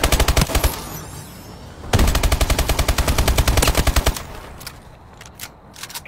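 Vulcan gunfire in a video game, long rapid bursts of very fast, loud mechanical shots, one brief burst, a pause, then a sustained stream lasting a couple of seconds, followed by a few scattered shots.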